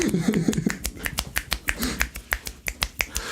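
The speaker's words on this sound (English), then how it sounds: "Finger snaps." Fingers snap about fifteen times in a fairly even, quick rhythm, each crisp and close, during a casual Midwest podcast, with a voice talking underneath at the start.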